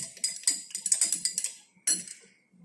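Metal stirrer clinking repeatedly against glassware as a solution is stirred during a conductometric titration, a quick run of bright taps, a short pause, then a brief final burst, close and fairly quiet.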